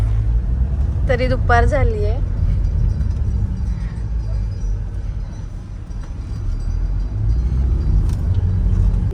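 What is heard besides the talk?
road traffic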